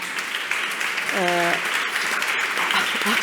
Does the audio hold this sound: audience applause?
yes